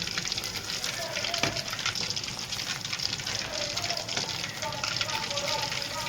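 Chicken 65 fries in a pan with a steady, dense sizzle and crackle of hot oil, continuous and close, with a few sharper pops scattered throughout.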